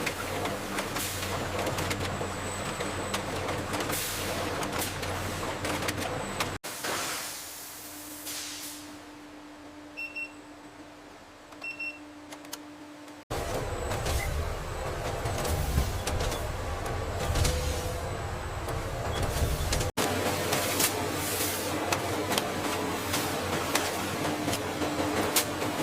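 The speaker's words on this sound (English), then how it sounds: "Colored gelatin is transferred from formulation tanks to the capsule forming machinery through insulated heated piping" Capsule forming machinery runs steadily in a pharmaceutical gelatin capsule factory, a dense mechanical whir and clatter that drops to a quieter hum with faint ticking midway before the loud machine noise returns.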